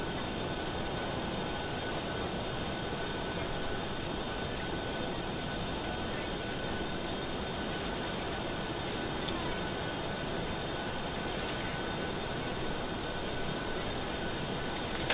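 A steady, broadband jet engine roar and hum from a PMDG 737-800NG pushing back in a flight simulator, continuous and even in loudness throughout with faint high tonal whine, no talking.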